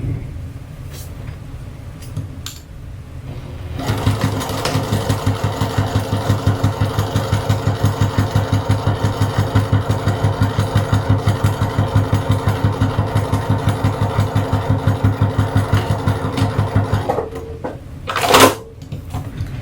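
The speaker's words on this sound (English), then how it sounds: "run a row of stitching right across there through the bottom 3 layers" A sewing machine runs a row of stitching through the bottom three fabric layers of a wallet, a steady rapid mechanical chatter close up for about thirteen seconds before it stops, followed by a brief rustle.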